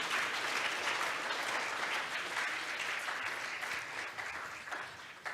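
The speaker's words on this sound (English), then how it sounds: "please give him a big hand one more time" Sustained applause from a conference audience at a closing session, dense and steady clapping throughout, fairly loud and filling the room.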